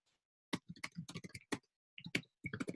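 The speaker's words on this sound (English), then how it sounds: "I'm going to type it in the comments." Fast bursts of computer keyboard typing, close and fairly quiet, with uneven clusters of clicky keystrokes separated by short pauses.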